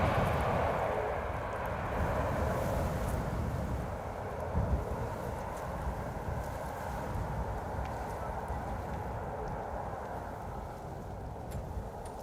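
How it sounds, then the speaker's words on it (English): An Air China Cargo plane arriving at Schiphol Airport gives a broad, rushing jet roar that is loudest at the start and then eases into a sustained distant rumble with wind noise. "here's Air China Cargo, arriving from Chengdu in China"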